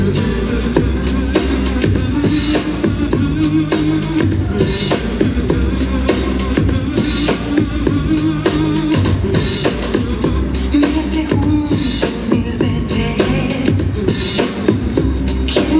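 Rumba dance music for a Pro-Am Latin singles competition in a Kiev ballroom, playing steadily and loudly throughout with a continuous rhythmic beat and no talk over it.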